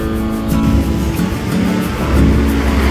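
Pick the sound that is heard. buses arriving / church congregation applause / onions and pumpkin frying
buses arriving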